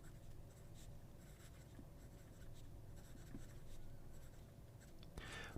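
A Wingsung Junlai 930 fountain pen with a medium nib writes on paper, giving very faint, soft scratchy strokes against a quiet low room hum, with a slightly louder scrape near the end.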